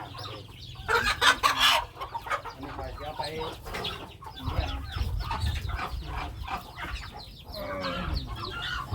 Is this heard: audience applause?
no